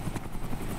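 A helicopter in the video game Arma 2 DayZ Mod gives a short, steady rotor drone with a rapid pulsing chop, moderately loud and close.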